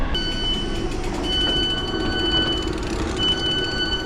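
A train rumbles steadily along the rails, with thin metallic squeals from the wheels ringing out above the constant roar.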